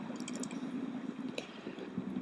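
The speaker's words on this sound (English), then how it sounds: "If you can pull a full sink line out of the water like that" Full sink fly line on a 9-foot 5-weight G. Loomis Asquith rod drawn up out of a river, with soft close dripping, squishing and splashing sounds over a low steady background hum.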